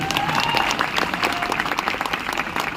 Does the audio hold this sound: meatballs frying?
no